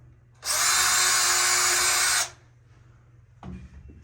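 A power drill with a 1/8 drill bit sinks a screw hole for a screen door hinge channel, one steady high whir lasting under two seconds, followed by a short faint rattle of handling.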